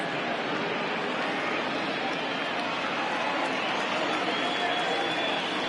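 Baseball crowd at a ballpark rising for a full 3-2 count: a steady, dense roar of cheering voices throughout, with a commentator's talk faintly underneath.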